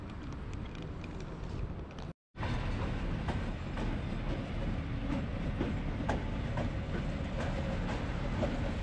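A train at the Rostov-on-Don railway station in Russia gives a steady, loud rumble with rail clatter and wind buffeting. The sound cuts out briefly near the start, then carries on.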